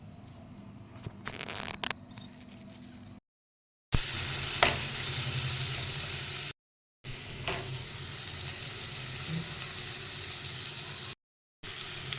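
Ponnaganti greens frying with tempering in a pan, giving a steady close hiss of sizzling oil with a few stirring scrapes, broken by short silent gaps.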